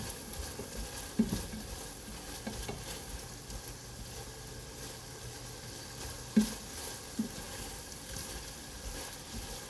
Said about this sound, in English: I'm giving it a good stir.